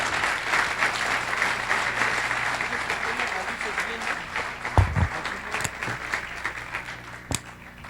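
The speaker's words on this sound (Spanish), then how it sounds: "Vamos a darle un fuerte aplauso" An audience applauds steadily for several seconds, dense clapping that gradually thins out, with a few louder bumps near the end.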